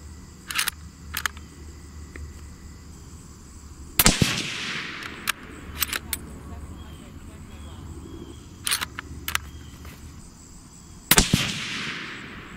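Suppressed Savage Ultralite rifle in 280 Ackley Improved, firing Barnes 140-grain TTSX handloads: three loud, sharp reports spaced several seconds apart, with fainter clicks and handling noises between them.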